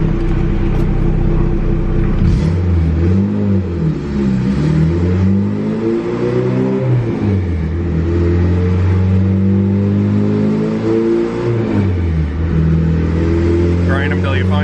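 A turbocharged Honda Civic EF engine revs hard on a dyno, its loud, close exhaust drone climbing and falling through several sweeping pulls, with voices faintly audible in the background.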